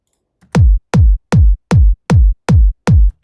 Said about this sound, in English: I would say it puts kind of low end and makes it more punchy